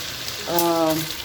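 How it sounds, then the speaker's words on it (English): Steady sizzling hiss of amaranth greens and crayfish stir-frying in a hot pan, with a brief tonal voice-like sound rising over it midway. "You hear it sizzling."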